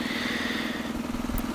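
A warmed-up lawn mower engine repurposed to drive a power generator runs at a steady, even drone, loud and close, with no pauses and no talking.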